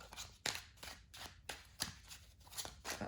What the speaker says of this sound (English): feel free to skip through the shuffling